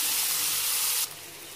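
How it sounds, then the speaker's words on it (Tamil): Onions frying in a pan give a steady, close, hissing sizzle that suddenly softens after about a second and carries on more quietly. "இது நல்லா வெங்காயம் வதங்கட்டும்"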